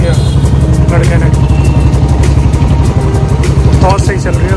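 Royal Enfield Bullet motorcycle riding on the road after a service, its steady low engine drone running loud and continuous throughout, with traffic and a voice or horn-like tones faintly on top.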